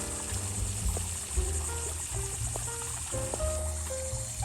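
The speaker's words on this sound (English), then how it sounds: "And our waterfall is working." A backyard pool's waterfall feature runs continuously, making a steady wash of falling water. A faint hum sounds beneath it at moderate distance.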